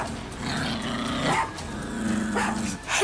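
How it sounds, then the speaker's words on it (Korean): A dog barks and growls in a short, close burst, its rough vocal tones rising and falling over about three seconds with a brief pause before a final yip-like sound, no talking heard. "해피가 짖는 소리에 눈을 떠보니까 제 방이었더라고요."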